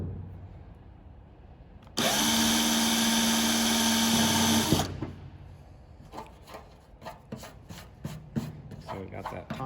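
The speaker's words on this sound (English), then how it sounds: "get this stabilizer clamped down on the table so I could push down on it with this drill" Power drill with a rivet remover boring out aircraft rivets on a vertical stabilizer build, a loud steady whine of about three seconds, followed by clatter and handling knocks of the part on a table.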